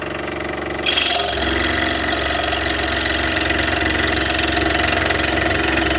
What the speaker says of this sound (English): So today we're cutting out Turkish spindles. We're on canary wood right now. We're also testing out the saw.